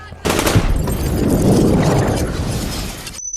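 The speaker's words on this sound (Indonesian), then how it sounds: "terdengar suara tembakan" Loud rapid gunfire in a sci-fi horror film crackles in a dense burst lasting a few seconds, close and harsh, then cuts off.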